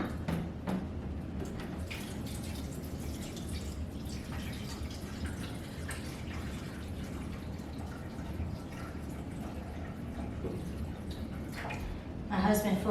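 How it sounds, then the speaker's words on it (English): Filtered water pours from a container into an AeroGarden Harvest XL reservoir, a steady trickling splash with drips, moderately close, while someone talks over it. "I'm gonna go ahead and fill it all the way up to the fill line."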